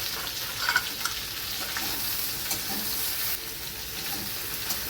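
Okra and slit green chillies fry in an oiled wok, a close, constant sizzle with a few brief scraping and stirring knocks, loud and unbroken with no voices.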